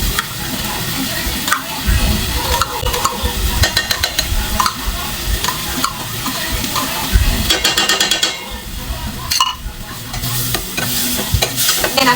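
Ground meat sautéing in a pan for misua with patola, loud crackling sizzle and busy stirring with spatula scrapes against the pan, close and continuous.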